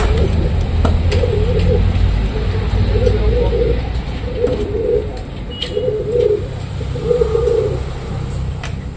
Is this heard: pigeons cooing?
yes